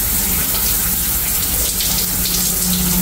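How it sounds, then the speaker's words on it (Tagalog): A hotel bathroom shower in Bali runs in a continuous, close hiss of spraying water, steady and loud throughout with no talking. "Tapos, ito yung sa shower. Ayan, shower. Check natin."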